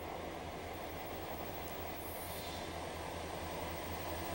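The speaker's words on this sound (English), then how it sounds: "We meet a lot of trains along the road." A CN freight train passes nearby in the Canadian Rockies, with a continuous rumble of rolling railcars and a rhythmic clatter of wheels over the rails, steady and moderately close, with no voices.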